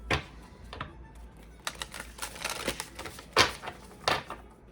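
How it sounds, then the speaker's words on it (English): Crisp papery riffles and soft slaps of oracle cards being shuffled, several bursts in a quiet room with no talking. "I'm gonna shuffle it a few times"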